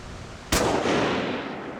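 A single rifle shot fired at a Pyrenean chamois on a mountain hunt in Spain, a sharp loud crack followed by a long rolling echo across open terrain.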